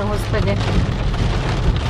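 Heavy downpour drumming steadily on a car while driving, a loud continuous wash of rain noise, with a brief spoken exclamation over it.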